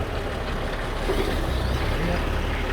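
A Toyota Land Cruiser crawls in first gear down a steep bush track toward Paddys Flat, its engine a steady low rumble with no change in pace throughout, close and continuous.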